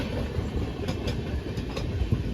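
A Janmabhoomi Superfast Express runs from Visakhapatnam toward Secunderabad, and from inside the carriage there is a steady low rumble with faint rhythmic clicks of wheels over rail joints.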